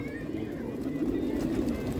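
Pigeons held in a net coo softly and continuously, a low murmuring warble at close range with no clear pauses.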